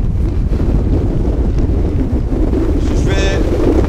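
Loud, roaring sandstorm wind buffeting close by in Morocco, a dense constant rumble with gusty surges throughout.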